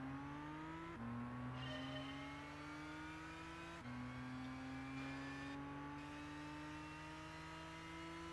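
A 2007 HPA Motorsports FT565 twin turbo car in Gran Turismo 6 accelerates hard through the gears, engine pitch climbing steadily with two distinct gear-shift drops, loud and continuous.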